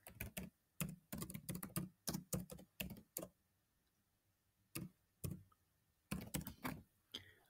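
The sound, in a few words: typing on computer keyboard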